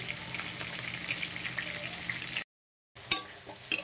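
Onions and capsicum for chilli chicken fry in a pan with a steady, soft sizzle, cut by a brief silence, then a couple of sharp clinks of a utensil against the pan.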